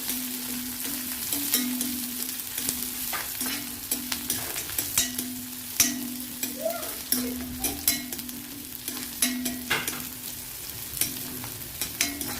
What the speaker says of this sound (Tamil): ஒரு பத்து சின்ன வெங்காயத்தை பெரிய கட் பண்ணிக்கோங்க நல்லா டீப்பாக ஃப்ரை பண்ணிக்கிறோம்